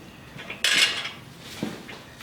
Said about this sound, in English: nuts and nylock nuts and washers go on the bottom